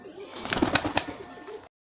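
Rajshahi local Giribaz pigeons coo in a short burst of repeated calls, close and fairly clear, before the sound cuts to silence.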